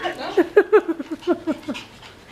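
A dog pants hard in quick, uneven bursts of breath, close and loud, with a few whimpery vocal tones mixed into the panting.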